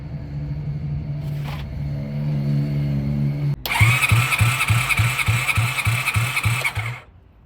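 A Honda VFR400 NC30 motorcycle engine, mid-restoration, cranks on the starter for a compression test: a quiet idle hum first, then a loud, rhythmic chugging whir lasting about three seconds before it stops abruptly.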